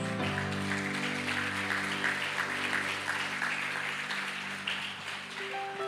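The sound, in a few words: church congregation applauding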